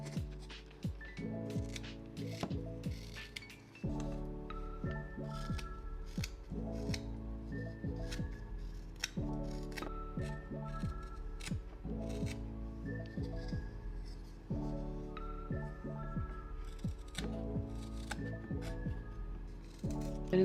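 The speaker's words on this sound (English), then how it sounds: "So I am doing something called a paring cut." A knife makes paring cuts while carving a wooden spoon, giving small crisp snipping clicks repeated back and forth over steady background music.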